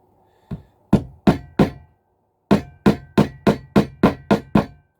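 Sharp metallic taps from a small toffee hammer driving pins into O gauge model railway track, a few spaced strikes then a steady run of about eight even taps, close and crisp.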